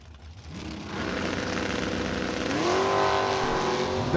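Drag race cars, a 1967 Camaro and a Z28, build to a loud, sustained engine roar that rises steadily in pitch as they launch and accelerate at close range.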